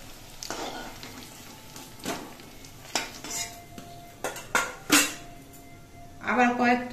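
Kitchen clatter of utensils against a pan as fried koptas are lifted out, with sharp clinks and scrapes in irregular bursts and a faint sizzle underneath.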